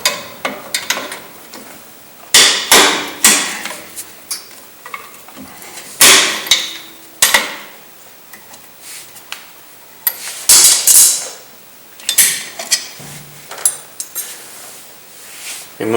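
Metal brake hardware being pried and removed from a Chevy S10 rear drum brake: sharp clinks, taps and scraping clanks in irregular bursts, close and fairly loud, with brief pauses between.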